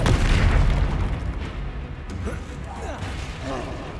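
A Confringo fire spell from Hogwarts Legacy goes off in a loud, booming blast at the start, its rumble fading over a few seconds beneath scattered game effects and faint voices.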